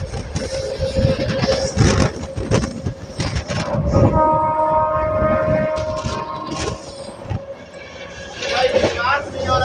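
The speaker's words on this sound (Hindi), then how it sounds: "संघमित्रा एक्सप्रेस का ओवरटेक हो गया मिर्जापुर रेलवे स्टेशन पर" Busy platform at Mirzapur station as an Amrit Bharat train overtakes the Sanghamitra Express, with steady rumbling rail noise, clattering wagons and a sustained horn-like tone throughout, while people talk nearby.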